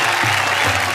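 An audience at a Hindi comic poetry gathering (hasya kavi sammelan) claps in a short, dense burst of applause.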